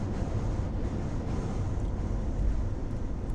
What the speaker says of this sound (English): High wind area, yeah,